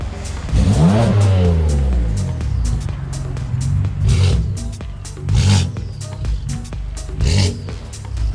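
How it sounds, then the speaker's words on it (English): A car engine revs hard several times, each throttle blip climbing sharply and then falling back to idle in rising and falling sweeps, loud and close with short pauses between bursts. "That's Junior's car."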